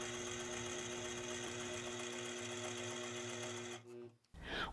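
A sewing machine runs steadily while machine quilting with a turret ruler, its fast rhythmic stitching hum continuing for several seconds before stopping briefly, then a rustle of fabric.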